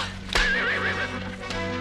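A horse gives one loud, close, quavering whinny, followed by a steady background rumble and no voices.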